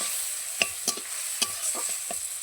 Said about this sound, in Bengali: যাতে লাউটা ভাজা ভাজা হয়